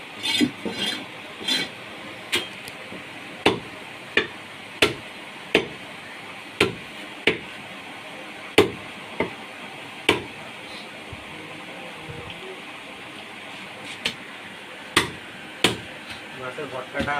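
A large Katla fish is hacked into pieces with a heavy blade, giving a steady series of sharp chopping thuds about every half second to a second, under voices talking nearby.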